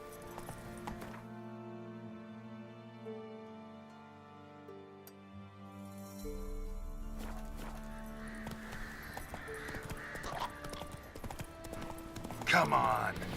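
Roach, the horse in the video game The Witcher 3: Wild Hunt, walks with a steady clip-clop of hooves under background music, and a voice speaks briefly.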